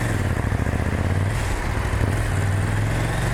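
A KTM 790 Duke parallel-twin motorcycle engine hums smoothly and continuously at a low pitch, moderately loud and close, with no talking.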